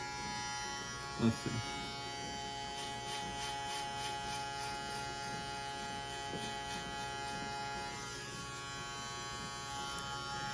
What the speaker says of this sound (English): Now we're gonna go with our clippers